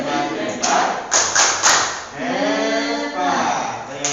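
A classroom of sixth-grade students claps a quick rhythmic pattern in unison, the tepuk hebat cheer. Sharp clustered claps burst out in short bursts while children's voices chant over and between them.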